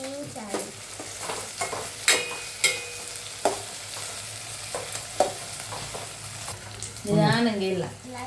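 Carrots and beans for cashew upma fry in hot oil in a pan, a steady close sizzle broken by repeated sharp scrapes and clacks of a stirring spoon, with a short burst of voice near the end.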